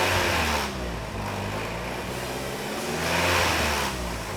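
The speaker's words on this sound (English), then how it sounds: "I'm gonna rev it up to 2000 RPM. That's when the rattle starts happening." Engine of a Mini revved to about 2000 RPM with a timing chain fault, a steady mechanical drone that rises, holds and swells again, a light metallic rattle running through it, close by with no talk.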